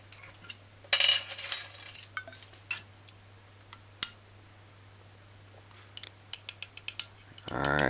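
A spoon clinks and scrapes against a bowl or pot while sugar is stirred into homemade sweet and sour sauce, with several close, bright metallic taps and clatters coming in bursts over a steady low hum.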